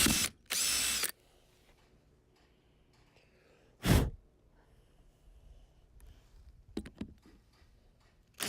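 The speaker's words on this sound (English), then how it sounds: "Drill some pilots." A power drill boring pilot holes in short loud bursts: two quick runs at the start, another around the middle, and a few brief blips near the end, with quiet shuffling between.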